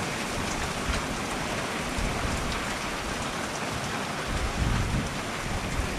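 Heavy rain falls steadily outside a doorway, a dense, even roar of drops close by with no talking.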